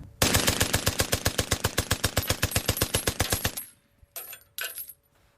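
A First World War machine gun fires one long, evenly spaced burst of about nine rounds per second, loud and close, then stops and gives two short bursts.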